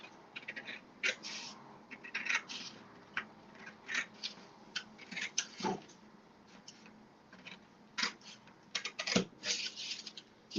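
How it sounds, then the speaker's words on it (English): Scissors snipping through paper along a score line during a crafting layout, a series of short crisp cuts in irregular bursts, fairly quiet and close, with no talking. "I'm going to take my scissors and I'm just going to cut that."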